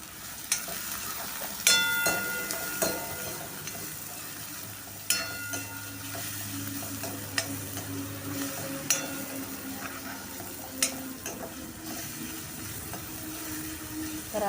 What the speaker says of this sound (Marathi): तर आता एक मिनिट मी कांदा परतून घेते आहे